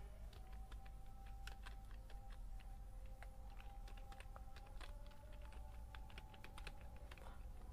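A name is typed on a computer keyboard, quick irregular key clicks in bursts, close but quiet, over a faint steady hum.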